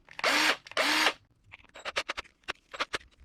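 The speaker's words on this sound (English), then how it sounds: "I'm gonna need my trusty drill." A power drill bores a hole in the plastic cap of a KJW 1911 Hi-Capa airsoft pistol magazine: two loud whirring bursts close by, then a series of short clicking and tapping sounds.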